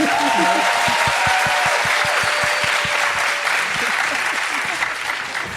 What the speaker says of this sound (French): C'est quoi ce peuple qui applaudit?